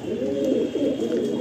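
Low, throaty cooing from a loft of pigeons kept to breed prize-winning young, several birds rolling their calls together nearby in a continuous murmur, with no talk.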